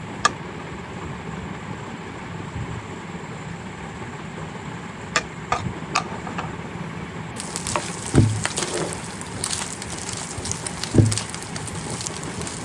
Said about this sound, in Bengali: এখন এটাকে আমি সরিষার তেলে হালকা ভেজে নিচ্ছি।